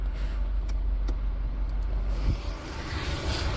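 A car's engine idles steadily close by with the air conditioning switched on, a continuous low hum and rumble with a few faint ticks and no voices.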